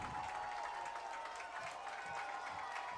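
A college football crowd at Georgetown, hosting Lehigh, rises to cheer and applaud as a steady, dense roar that holds at an even level for a few seconds.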